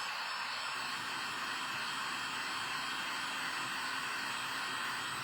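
A hair dryer blows a steady, even airflow over a freshly painted snow girl ornament, its continuous whooshing hum running unbroken and fairly close with no voices.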